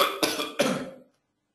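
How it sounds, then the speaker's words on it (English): Two sharp, close throat-clearing coughs in quick succession during a coughing fit, each a harsh burst that fades before silence follows. "I'm having a bit of a coughing fit here, I do apologise."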